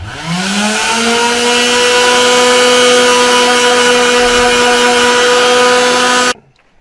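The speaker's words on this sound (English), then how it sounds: "we have finished sanding our little cellular tower antennas." A steady, high-pitched power tool whine runs continuously for several seconds at close range while sanding small model radio tower antennas, then cuts off abruptly near the end.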